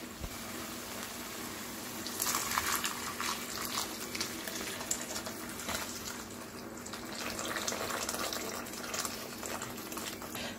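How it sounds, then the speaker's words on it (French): Boiling water poured from close by into a pot of tikourbabine stew, a continuous soft splashing and gurgling that begins after a couple of seconds and carries on steadily at low volume, no talking. "là je vais ajouter de l'eau bouillante"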